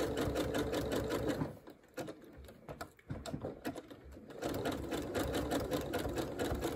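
A sewing machine stitching with clear thread runs in fast bursts of rapid needle clatter, pausing briefly twice before resuming at steady speed.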